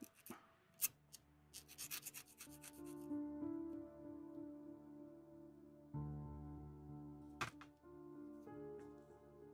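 Gentle rubbing and scratching on a small plastic part from a 1/60 HG Bandai Arx-7 Arbalest model kit. A cluster of dry scraping strokes comes early, then softer rubbing continues over a steady tonal background hum.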